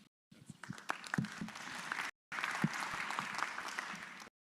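An audience at a science conference applauds its panelists with a steady wash of clapping, broken by a short gap before resuming just as strong.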